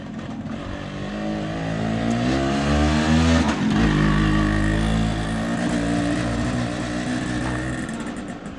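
A vehicle engine revs hard while driving. A rising, buzzing whine climbs in pitch for several seconds, then settles into a loud, sustained drone close to the listener.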